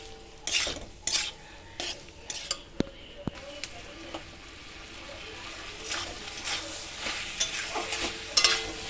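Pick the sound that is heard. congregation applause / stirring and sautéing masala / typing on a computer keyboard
stirring and sautéing masala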